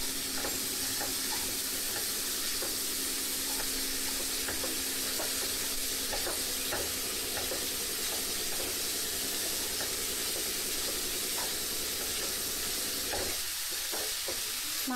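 Vegetables and onions fry in a pan with a continuous loud sizzling hiss and light scraping of stirring throughout, plus a brief clatter near the end, with no talking.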